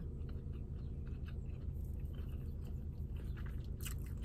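Biting and chewing into a Subway chicken sandwich inside a car, soft close crunches and mouth sounds, quiet and faint against a steady low background hum.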